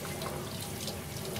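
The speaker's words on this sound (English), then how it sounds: "I'm going to stick it under this hot water and let the water soak into it." Hot tap water runs steadily from a faucet into a sink over a folded piece of wet felt, a close, continuous splashing rush with no talking.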